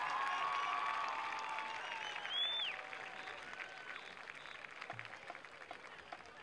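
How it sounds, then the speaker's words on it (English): A crowd at a high school football game applauds the seniors, distant clapping and scattered cheers spread across open bleachers, loudest at first and tapering, with a whistle-like tone and a brief shout rising over the fading applause. "one last round of applause"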